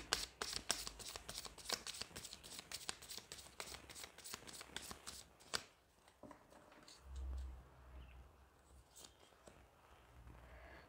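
Tarot cards are shuffled by hand in rapid riffling bursts for about five seconds, close and crisp, followed by softer scattered card handling and light taps.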